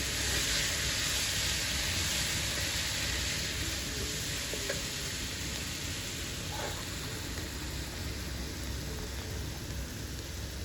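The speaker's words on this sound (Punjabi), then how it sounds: "ਤੇ ਲਾਲ ਮਿਰਚਾਂ ਪਾ ਕੇ ਥੋੜਾ ਜਿਹਾ ਸੇਕ ਲਵਾ ਲਵਾਂ" Green and red chillies roasting in a spice masala give off a dense, continuous sizzle that holds steady with occasional faint stirring clicks.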